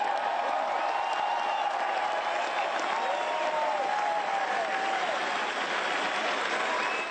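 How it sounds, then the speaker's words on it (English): Steady, dense applause from a large crowd at a political event fills the whole stretch, fairly distant and even, with no cheering peaks or speech standing out. "Rudy Giuliani got the applause"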